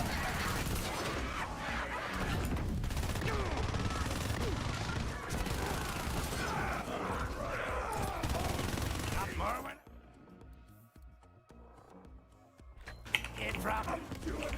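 Assault rifle gunfire in a shooter video game crackles in rapid, sustained bursts for about ten seconds, then drops to quieter game sounds with a single sharp shot near the end.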